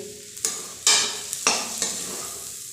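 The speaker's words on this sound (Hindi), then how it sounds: "मीडियम टू हाई फ्लेम के ऊपर 2 मिनट तक भूनने के बाद जब प्याज हल्का सॉफ्ट हो जाए" Onions are stir-fried in a kadhai over medium to high flame, with a few sharp scraping stirs over a close, steady sizzle and no voices.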